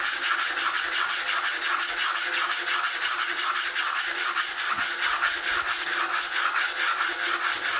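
Abrasive paper is held by hand against chestnut wood spinning on a lathe, making a close, loud, steady scratchy rubbing with an even, rapid pulsing rhythm throughout and no voices.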